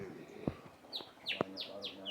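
A white magpie-robin (murai) at a bird breeding aviary gives several short, bright chirps and descending whistled calls, fairly faint, with a few sharp knocks and some background talk.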